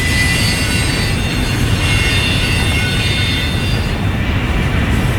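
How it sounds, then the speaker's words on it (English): A long double-stack intermodal freight train pulls out of a rail yard in Barstow, California, its loud, steady rumble and clatter of railcars rolling continuously close by, with faint wheel squeal on top. "Damn, this is a big ass intermodal coming out of the yard."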